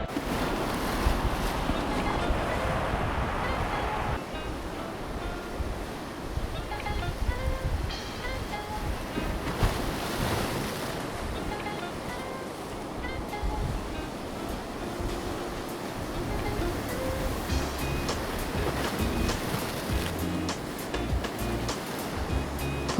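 North Sea waves wash against a rocky seafront in a steady, broad roar of surf with gusts of wind buffeting the microphone, continuous and fairly close.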